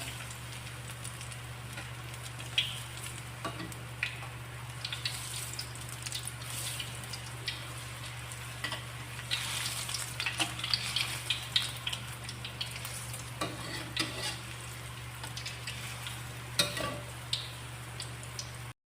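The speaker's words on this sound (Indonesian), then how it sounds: "si peyeknya sudah saya goreng semuanya ya" Peanut crackers (peyek) bubbling in hot oil, a continuous soft crackling sizzle with scattered pops over a steady low hum, close and fairly quiet.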